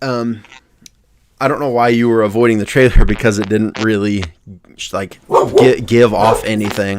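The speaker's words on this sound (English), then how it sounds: "Excuse the dog barking." A dog barks a few times in a home podcast setting, brief yips mostly buried under two people talking loudly and close.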